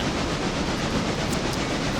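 A train rolls steadily along the rails in the video game Railroader, a continuous loud rumble with rhythmic clickety-clack from the wheels and no talk.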